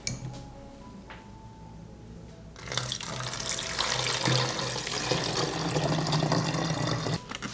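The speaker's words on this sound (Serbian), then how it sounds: "Napravljen rastvor sipam u prskalicu." Baking soda solution is poured into a garden sprayer, a faint quiet start followed by a steady close stream of liquid filling the container for several seconds.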